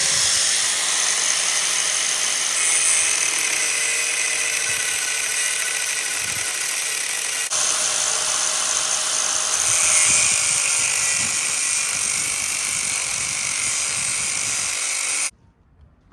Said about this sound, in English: I'm just going to go off now with an angle grinder and basically just cut the lengths down